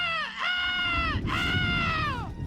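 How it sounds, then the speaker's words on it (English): A chicken-like creature in the video game Gothic lets out two long, loud screeching crows in succession, harsh and shrill with a brief break between them, close and dominant over low background game noise. "It's a screaming chicken."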